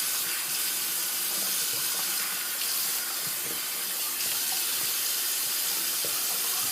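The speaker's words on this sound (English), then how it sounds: "Rinse off my hands" Tap water runs hard as hands are rinsed at a sink before shaving, a loud, steady rushing hiss close by with no voices.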